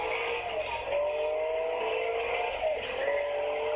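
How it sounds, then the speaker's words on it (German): Racing car in a video game revving steadily with rising engine pitch as it shifts gear and accelerates, a continuous loud whine with no talking. "Wieder Gang wechseln und Gas geben."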